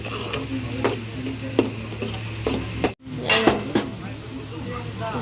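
Curry with turmeric is stirred in a pan, a spoon scraping in regular strokes over a soft sizzle, with a voice speaking at times and a brief cut in the middle.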